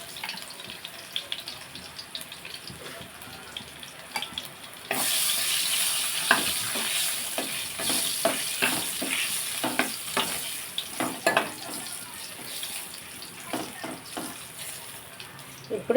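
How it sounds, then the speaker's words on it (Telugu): Garlic and tempering spices hit hot oil for gongura dal and set off a sudden, loud, steady sizzle, broken by stirring scrapes and a few clinks, with no talk over it. "ఇది బాగా వెల్లుల్లిపాయలు వేసుకున్నాక నేను పోపు వేసేస్తాను."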